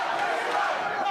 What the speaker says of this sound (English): Well, there we hear the crowd